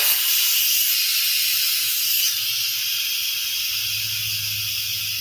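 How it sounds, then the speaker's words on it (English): A pressure cooker vents hot steam in a loud, continuous hiss that holds steady for several seconds, easing slightly partway through and joined by a low rumble near the end. "Just be careful because that steam is going to be very hot."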